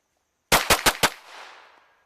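Four sharp gunshots in quick succession during a timed shooting drill, loud and close, each crack followed by a trailing echo that fades over about a second.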